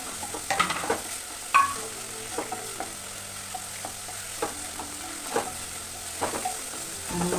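Banana pieces fry in a pan while a spoon stirs them, giving a low steady sizzle broken by irregular scraping and clinking strokes, close and clear with no talking.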